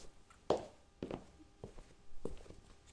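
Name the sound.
footsteps with jingling anklet sound effect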